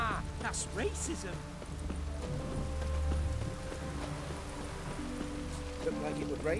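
Rain falling in the fantasy role-play game The Witcher 3: Wild Hunt, a steady patter on surfaces running throughout, with soft hoof-like clops and faint background murmur mixed in.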